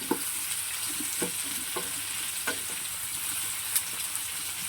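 Mushrooms fry and get mixed in a pan for a creamy mushroom paneer dish, a soft, even sizzle with light spoon taps and scrapes spaced every second or so, fairly quiet.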